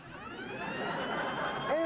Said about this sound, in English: And that siren means our time is up for that round.